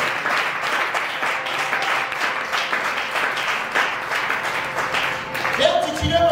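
A church congregation applauding, sustained dense clapping from a crowd indoors, fairly loud and continuous for several seconds before fading at the end.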